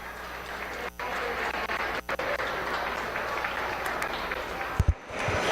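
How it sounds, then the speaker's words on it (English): Audience applause fills a meat goat show arena, a steady sustained clapping from a crowd that runs throughout with only brief dips, ending in a couple of loud close thumps. "Let's give him a round of applause."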